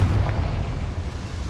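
A Confringo blasting spell goes off in a wizard video game as a deep, rumbling boom that rolls on for a moment, with heavy low-end weight and no voices.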